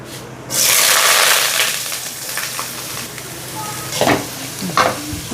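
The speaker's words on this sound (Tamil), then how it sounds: "இப்போ வெங்காயம் நல்லா வதங்கிடுச்சு" Chopped onions with green chilies and curry leaves fry in a pan with a loud steady sizzle, while a spoon stirs and scrapes through them in a few sharp strokes close by.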